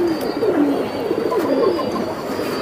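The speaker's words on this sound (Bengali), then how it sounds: "পুরানো জাতের বাঘা কবুতর।" Close and loud, an old-breed Bagha pigeon coos in repeated rolling, swooping phrases for nearly three seconds, the throaty notes rising and falling steadily with no speech over them.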